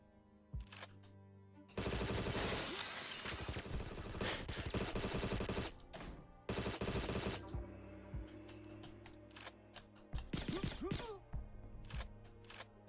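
Full-auto gunfire in the Goldeneye-inspired shooter Agent 64: Spies Never Die, loud sustained bursts of rapid shots, with short breaks and a few single shots between them and no talking.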